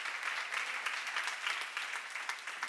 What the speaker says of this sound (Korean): 박수를 한번 드렸어요